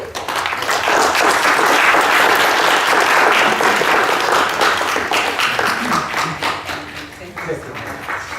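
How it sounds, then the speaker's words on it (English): Sustained audience applause at a business presentation on housing and population, loud and dense throughout and tapering slightly toward the end. "We give a best applause to Mr."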